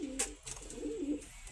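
Pigeons coo in a soft, repeated rhythm at close range, a newly paired couple of tumbler-type birds kept in a coop, with a brief higher chirp near the start and no talk.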